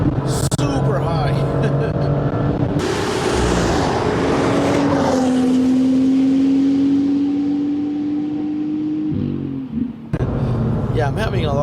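A 2018 BMW M2 engine revs high while driving, rising into a sustained climbing whine before easing off, with road and wind noise around it and talk over parts.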